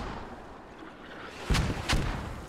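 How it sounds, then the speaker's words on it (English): Two heavy artillery blasts land on a building in a war video game, booming about half a second apart over a steady low rumble of battlefield background noise. "Now dropping artillery on that building."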